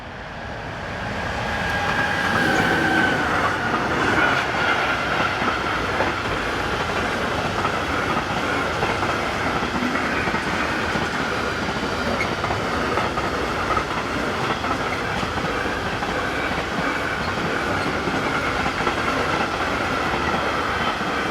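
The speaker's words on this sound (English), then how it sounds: "Following along behind is DB Cargo's 189082 on an intermodal bound for Rotterdam" A DB Cargo Class 189 electric locomotive hauling an intermodal freight train to Rotterdam on the Dutch network, a loud steady roll of wagons and wheels with faint squeal, building from the start and sustained.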